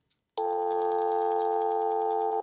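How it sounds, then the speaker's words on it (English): After a soft click, a continuous telephone dial tone sounds loud and clear from an EnGenius Freestyl long range SIP phone speakerphone, holding steady for about two seconds. "if I press the handset flash button, we'll hear dial tone. I'll do this on speaker."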